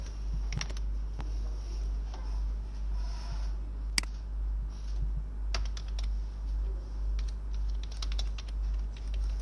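Steady typing on a computer keyboard, close, irregular keystrokes over a loud low hum, one sharper key strike standing out.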